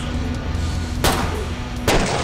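Two sharp gunshots from a Killing Floor 2 game, about a second apart, each a loud broadband crack over a steady low hum of game background.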